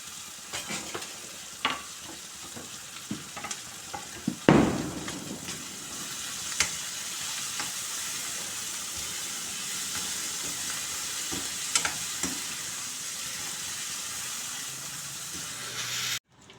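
Spices temper in a hot pan for varagu rice upma, a soft steady sizzle with occasional stirring clatters and a louder burst early on, close and quiet.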